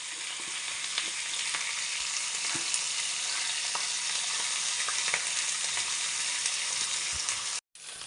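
Fish frying in oil, Kerala style, hisses in a loud, even sizzle with faint pops, close by and constant, then cuts out briefly just before the end, with no speech.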